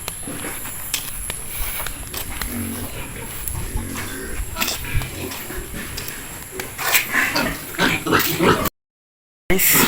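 Pigs on a pig farm grunt and oink in a continuous, close jumble over scuffling and movement, with a brief dropout near the end.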